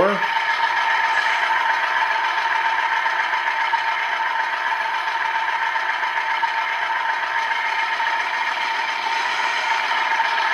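Rapido Dash8-40CM model locomotive running at throttle notch 4, a steady mechanical drone with rattling overtones, constant and close with no change in pitch.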